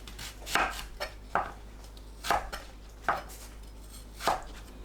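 A knife slices pitted jujubes on a cutting board, five or six crisp, separate thunks spaced about a second apart, close by and fairly quiet.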